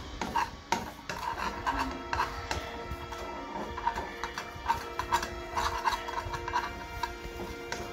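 Spoon scraping and clinking against a pan while stirring scrambled eggs, a quiet, irregular series of light metallic taps and scrapes, close by.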